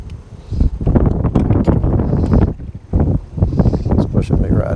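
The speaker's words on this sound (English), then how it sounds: "And here comes the wind." Wind gusting at a rocky riverbank, a strong, rough rush that buffets the microphone in uneven waves. Someone talks over it.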